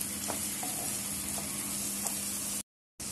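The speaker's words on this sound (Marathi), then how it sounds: "कांदा आणि टोमॅटो आपल्याला मऊ होईपर्यंत छान परतून घ्यायचं आहे" Onion and tomato sautéing in a pan for ambat varan, a steady close sizzle with soft stirring taps and a low hum, cut off by a brief silent gap near the end; no talking.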